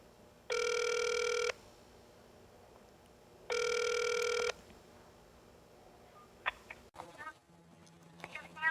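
Two long electronic ring tones from a phone calling a sexual-violence reporting hotline, each about a second long and separated by a pause, followed by faint clicks and a voice answering.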